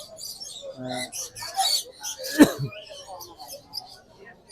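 Many birds chirp and coo in scattered bursts at a bird market, with short sharp calls over a low murmur of background activity.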